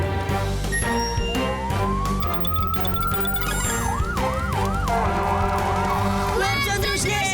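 Fire engine siren in an animated cartoon, a loud continuous wail that rises and then cycles up and down rapidly over layered music and effects, steady and close throughout.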